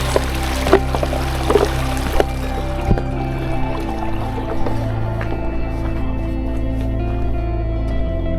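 A shallow stream crossed on the way to Chandra Taal lake, its water flowing in a steady close rush with occasional splashes and knocks, and no talking.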